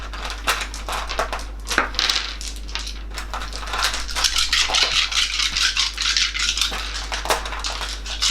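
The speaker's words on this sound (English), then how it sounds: "And then you roll those many dice?" A handful of dice tumbling and clattering during a tabletop wargame, rapid dry plastic rattles and clicks in bursts, close and fairly loud, with no voices.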